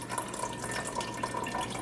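Calcium chloride solution for cheesemaking is poured from one container into another, giving a soft continuous trickle and splash of liquid at close range, with no voices.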